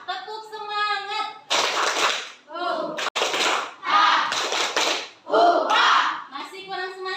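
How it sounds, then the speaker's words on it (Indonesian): A group of children chants and claps together in a rhythmic spirit clap, several loud bursts of clapping and voices in quick succession, framed by a teacher-like voice talking before and after. "Ayo, kita tepuk semangat dulu ya."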